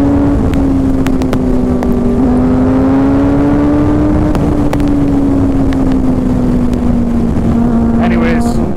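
A Suzuki GSX-R motorcycle engine and exhaust drone steadily while riding, a loud sustained tone gently rising and falling in pitch with wind rush, as the rider talks.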